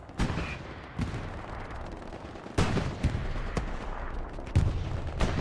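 Rocket fire and explosions in the World War II shooter Hell Let Loose, in a competitive match on the Foy map. Several sharp, booming blasts land irregularly over a constant rumble of battle, with no talk.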